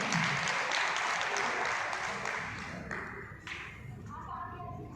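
Audience applause at a Hindu organisation's gathering, dense and steady crowd clapping that fades somewhat toward the end while a voice speaks over it.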